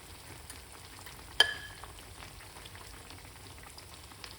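Saltfish fritters fry in hot oil with a faint, steady crackling sizzle that runs throughout, broken once by a single sharp clink.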